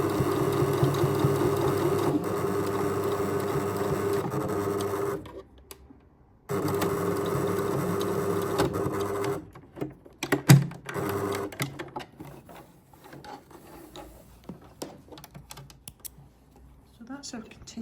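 A sewing machine stitches layers of a shirt sleeve placket in two long, steady bursts, stopping briefly between them, followed by scattered clicks, handling noises and short pauses.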